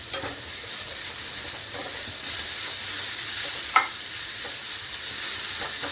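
Salted coriander stems frying over a low flame, their water steaming off in a dense, even sizzle, with a few soft stirring scrapes and one sharper clink partway through.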